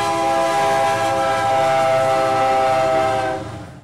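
A train on the railroad through Old Town Lenexa sounds a long, steady horn blast, loud and close, fading out at the end with no voices.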